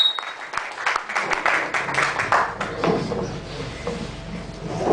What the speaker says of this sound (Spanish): un aplauso para nuestro invitado especial